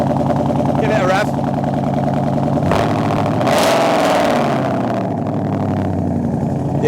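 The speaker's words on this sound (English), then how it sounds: "Give it a rev." A 2016 Ford Mustang V8 manual with noisy, badly sorted exhausts revs hard nearby. A loud, continuous engine roar swells to a higher peak midway and then settles, with voices talking over it.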